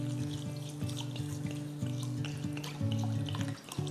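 Basmati rice being rinsed in water for ghee rice, a steady close splashing and trickling wash with a continuous running-tap texture and faint background tones, no voices.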